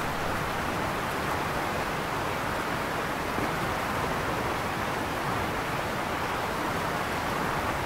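A dense, constant roar of a waterfall cascading about 100 metres down near the Galician Atlantic coast, broad and unbroken like heavy rushing spray, with no other sounds standing out.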